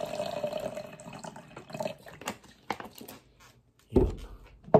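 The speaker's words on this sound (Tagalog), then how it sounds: "Lagay tayo ng tubig." Water is poured into a shaker bottle to make a protein shake, a faint trickle and splash with a few louder sloshes and knocks near the end.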